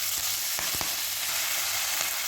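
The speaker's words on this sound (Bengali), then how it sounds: "আমি এর মধ্যে দিয়ে দেব কেটে রাখা পুঁই শাকগুলো।" Chopped Malabar spinach hits hot oil in a pan, giving a dense, steady sizzle with a couple of sharp clatters of the leaves dropping in, close and loud without any talking.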